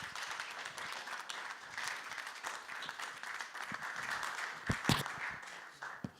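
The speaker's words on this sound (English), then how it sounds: "can we give a big round of applause for Jay Varkey, the Group Director of GEMS E" Conference audience at a prize launch event in Dubai giving a round of applause, a steady crowd wash of clapping at moderate distance, a few louder claps standing out near the end.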